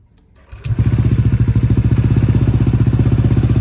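Honda PCX 160 scooter with a modified exhaust fires up after a brief quiet moment, then runs loud and close with a rapid, even throbbing pulse.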